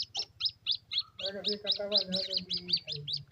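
Tiny chicks chirp in a quick, steady string of high peeps, while a low voice talks underneath partway through.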